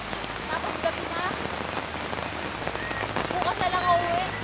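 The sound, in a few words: rain falling in the mountains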